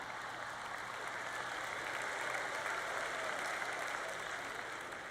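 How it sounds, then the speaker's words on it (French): A church congregation applauding a preacher during a sermon, heard as a soft, even wash of many distant hands clapping that holds steady and quiet throughout. "Vous applaudissez parce que vous savez de quoi je parle"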